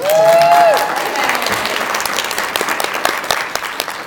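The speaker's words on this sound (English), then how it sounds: "Applaud, please." Applause from an author panel audience welcoming a guest author, a loud, close wash of clapping that starts with a brief whoop or whistle and holds steady throughout.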